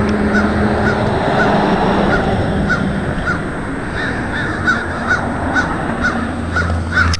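A crow caws again and again close by, harsh calls coming in short bursts over a steady outdoor background.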